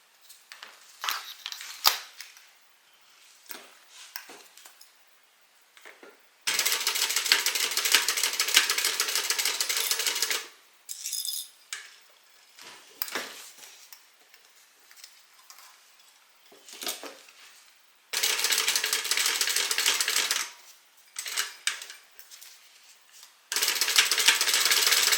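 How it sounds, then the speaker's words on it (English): A sewing machine top stitching along zipper teeth through leather and lining, running in three loud sustained bursts of rapid mechanical whirring, separated by quieter clicks and handling sounds. "We're going to top stitch along the zipper teeth, top stitch this short edge closed"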